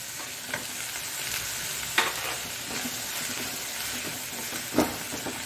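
Chopped onion and cabbage fry in a pan for a jowar masala dosa filling: a steady close sizzle with soft stirring scrapes and two sharper clinks of the spatula.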